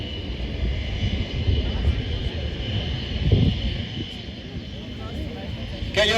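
Red Arrows synchro pair jets pull up at an air show in Denmark with a broad, rumbling jet roar that swells and then eases, heard from a distance while a voice talks over it.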